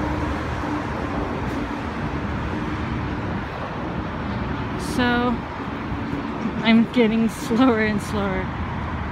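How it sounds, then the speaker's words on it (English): Road traffic beside the Martin Goodman Trail, a lakefront waterfront recreation trail, makes a steady, broad roadway roar throughout, with a person talking over it in the second half. "so traffic noise right here, but it goes down the closer when you go around"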